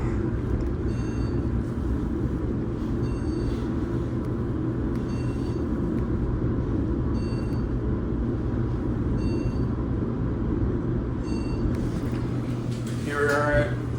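Steady low rumble and hum of a Montgomery elevator car climbing to the eighth floor of a Minneapolis parking ramp, with faint periodic clicks and a short chime near the end.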